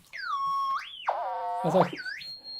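An electronic whistling tone from a light detector glides up and down in pitch as the light changes, sweeping smoothly between high and lower notes with a buzzy, harmonic-rich stretch in the middle.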